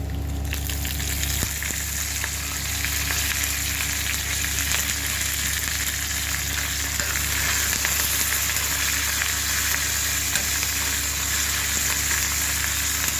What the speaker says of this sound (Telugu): తాలింపు వేగనివ్వాలండి